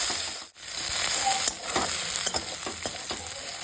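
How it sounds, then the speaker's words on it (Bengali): Garlic cloves frying in a pan and being stirred, a bright, close sizzle broken by a brief drop, then several clicking scrapes of the spoon against the pan, with no speech. "তারপর ভালো করে নাড়তে থাকবো, এই সময় কোনোভাবেই যেন পোড়া না লাগে"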